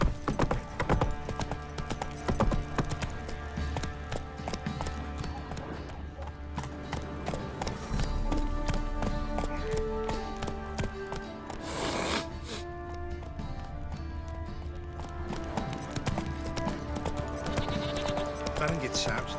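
Roach the horse gallops in The Witcher 3, steady hoofbeats clopping under game music and a voice, with a brief whinny, holding at a moderate, constant loudness throughout.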